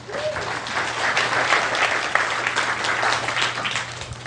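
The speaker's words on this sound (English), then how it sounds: "Give him a round of applause." An audience bursts into warm, sustained applause, a dense patter of clapping that swells and holds steadily at close range.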